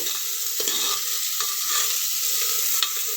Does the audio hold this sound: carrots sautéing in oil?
yes